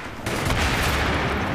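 Dense gunfire from the Battlefield 3 game on the Sharqi Peninsula map during a helicopter gunner fight, a steady loud roar of shots with no talk.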